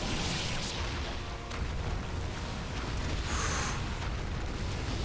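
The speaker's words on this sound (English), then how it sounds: "Oh no, that's a lot of fire." Roaring fire effects from a boss battle in Ninja Gaiden Black 2, a dense broadband rush and crackle with deep rumbling bursts, loud and continuous for several seconds.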